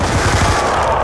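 Gun in a zombies shooter fires a rapid burst, dense loud close-range shots packed together with no pauses, alone without talk.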